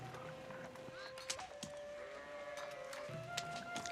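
A sheep bleats in the Age of Empires strategy game, the wavering cries repeating over a faint background hum with a few soft clicks and thuds.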